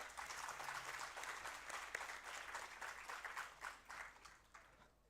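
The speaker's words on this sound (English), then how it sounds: "Let's have a huge round of applause for sir." An audience at a technical event applauds a speaker, steady sustained clapping from a crowd heard at a distance, fairly faint, tapering slightly at the end.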